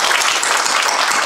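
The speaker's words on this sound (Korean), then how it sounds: "박수를 힘차게 한 번 더 치도록 하겠습니다" A congregation applauds a pianist at a Korean women pastors' New Year thanksgiving service in New York, loud and dense clapping from many hands filling the room continuously.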